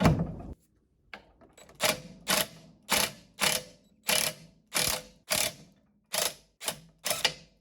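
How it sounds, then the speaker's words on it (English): A Craftsman impact wrench works on the bearing carrier of an Alpha/Bravo outdrive lower unit, giving about a dozen short, sharp hammering bursts in a steady rhythm after a brief pause, close by and with no talking. "now I'm going to use my Craftsman impact"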